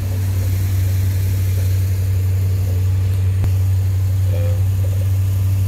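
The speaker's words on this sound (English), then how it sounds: "But listen to that engine, man." An old, battered engine idles steadily with a strong low hum and a constant even drone, close and loud for several seconds, with no voices over it.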